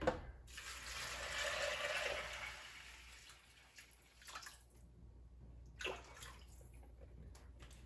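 Running water pours steadily into a crock pot holding beans and a ham bone at first, then tapers to quieter splashes and a couple of brief trickles.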